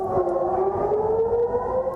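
An air raid siren in Tel Aviv wails in a steady, sustained tone that rises slightly in pitch, heard alone at a moderate distance.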